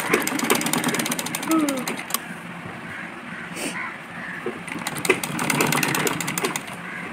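A regular sewing machine stitches piping onto a blouse in bursts of fast, rapid ticking, with pauses between runs. The whirring needle stays close, and voices speak during the gaps.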